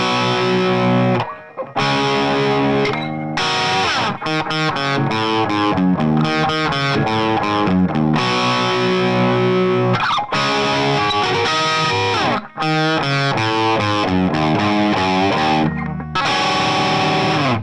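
A main riff rings out on a distorted electric guitar with effects, loud and continuous with brief pauses between phrases and no talking.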